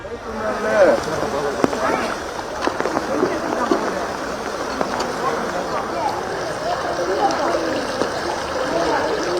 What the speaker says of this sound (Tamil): திருநெல்வேலி தாமிரபரணி ஆற்றில் இரண்டாவது நாளாக வெள்ளப்பெருக்கு